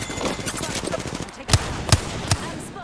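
Video game gunfire crackles in rapid automatic bursts, followed by three heavy, separate shots. Speech is faintly mixed in.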